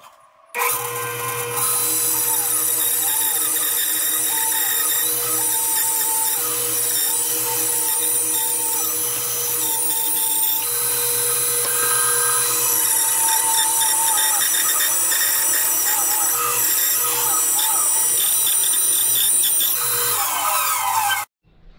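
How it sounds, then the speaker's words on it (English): A bandsaw cuts steadily through a wooden kitchen scoop handle, a loud continuous whine and rasp for about twenty seconds with a low motor hum underneath, stopping abruptly at the end. "you can see on the bandsaw, we'll remove this side to make that scoop"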